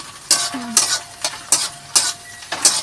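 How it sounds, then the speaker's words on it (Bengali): Capsicum and onion fry in a hot wok (kadai) while a spatula stirs in regular scraping strokes, each stroke bursting into sizzle over a low steady hiss, close and clear with no talking. "এবার ক্যাপসিকামটা দিয়ে দিচ্ছে কাকিমা কড়াইতে।"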